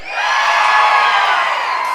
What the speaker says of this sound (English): And now, on the count of three, everybody scream!